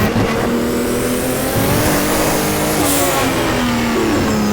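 A BMW M1 race car in the sim racing game rFactor revs hard and steadily, its mid-pitched engine note climbing and holding loud and close for the whole stretch with no talk over it.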